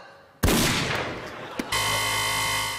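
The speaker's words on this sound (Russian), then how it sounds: "Это выстрел." A single loud stage gunshot cracks out after a moment of quiet during a live comedy show, followed by a lingering rumble and a second smaller pop before a steady hum returns.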